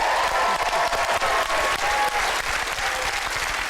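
Studio audience on a magic game show breaks into loud, sustained applause, dense clapping filling the whole stretch with a light crowd murmur underneath.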